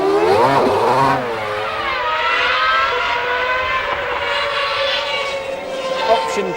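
An F1 car at a Silverstone driving school race start, its engine revving high with rising and falling whine and a touch of wheelspin, loud and close with other engines around.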